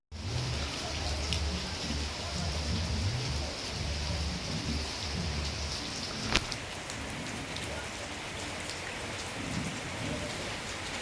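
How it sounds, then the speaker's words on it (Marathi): Heavy monsoon rain pours down in a steady, dense hiss at a farmhouse in Karjat, with one brief louder knock partway through. "एकदम एवढा मस्त पाऊस पडतो आहे इथे"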